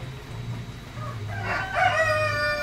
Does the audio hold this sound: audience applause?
no